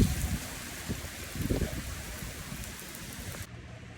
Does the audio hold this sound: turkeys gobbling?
no